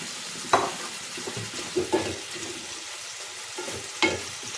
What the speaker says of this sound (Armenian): Թող մի քիչ հավի միսերեսը տապակվի, նոր կխառնենք։